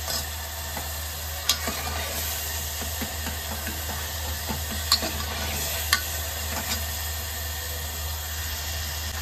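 Tomatoes softening in a pan for fasting khichdi with vrat salt make a steady low sizzle and simmer, with a few faint clinks and pops scattered throughout and no talk.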